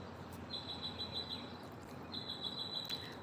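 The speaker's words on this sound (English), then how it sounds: "We have a bird talking." A small bird chirps indoors in two bursts of rapid, high, repeated tweets, fairly faint over a quiet room hum with no talking.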